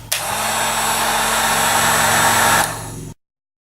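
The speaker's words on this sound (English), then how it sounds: "let's go ahead and heat that up with our heat gun" A heat gun shrinks heat shrink tubing on wires at a workbench, giving a loud, close, steady blowing roar that starts abruptly, holds for about two and a half seconds, then drops and cuts off.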